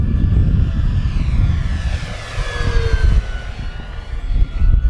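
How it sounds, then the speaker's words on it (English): FMS V8 P-51 Mustang RC model airplane flying outdoors, its engine giving a loud, continuous whine that rises and falls in pitch as it passes, with no voices. "This plane just performs so nice, guys."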